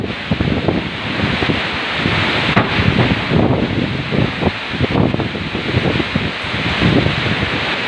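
Loud, gusting typhoon wind with rain roars continuously with rushing, rumbling bursts, like a strong storm blowing close to the microphone.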